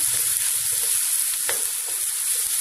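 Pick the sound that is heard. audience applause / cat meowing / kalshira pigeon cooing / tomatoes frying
tomatoes frying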